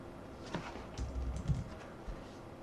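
Typing on a computer keyboard, faint scattered key clicks in a quiet room, a few taps spaced irregularly over a couple of seconds.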